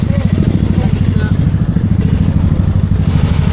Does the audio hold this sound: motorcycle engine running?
yes